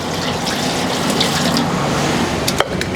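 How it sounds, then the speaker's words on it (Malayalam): Water pours steadily into a cooking pot beside rice that is being cooked for a Kerala duck biryani. The stream gushes continuously at close range, with a brief clink near the end. "ആവശ്യത്തിന് നമുക്ക് വെള്ളം ഒഴിക്കാം."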